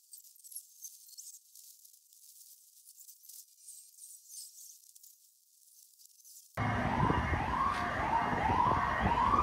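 After a muffled, quiet stretch, a police car siren suddenly becomes loud and clear, its pitch sweeping up and down repeatedly over traffic noise.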